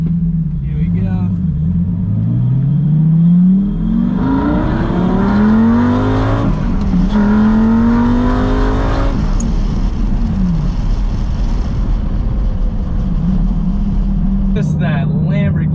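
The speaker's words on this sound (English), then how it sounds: "That Lamborghini V10 screaming, phenomenal." Lamborghini Gallardo V10 exhaust revs loudly in repeated rising sweeps heard from inside the car with windows down, climbing to a high-pitched scream, then dropping back to a rumbling idle, with a brief voice near the end.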